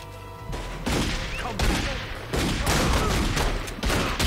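Shotgun gunfire in The Godfather 2 video game, a dense barrage of loud overlapping blasts with booming thumps and crackling echoes over a few seconds, no speech over it.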